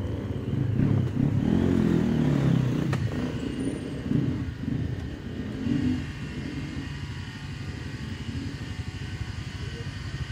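A CX 250SE motorcycle rumbling at low revs after crash repairs, loud at first and settling into a steady idle with some mechanical clatter.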